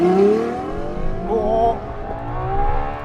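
Ferrari LaFerrari hypercar accelerating hard, its engine note rising steadily in pitch and loud from inside the cabin, with a brief exclamation from a person in the car.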